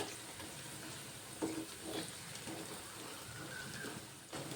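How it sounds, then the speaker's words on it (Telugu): Fenugreek leaf and ripe red chili pakoras frying in hot oil at medium heat, a steady soft sizzle with occasional stirring scrapes, close and alone without voices. "మీడియం పెట్టుకొని కాల్చుకోవాలండి, లేదంటే లోపల ఉడకవు."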